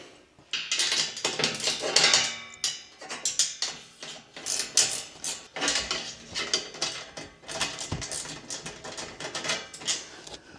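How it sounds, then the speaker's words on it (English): A ratchet spanner tightening fasteners on a Jeep, with bursts of quick metallic clicking and clattering close up, broken by short pauses between strokes and no talk. "grab your little ratchet and your ratchet spanner or wrench and just nip everything"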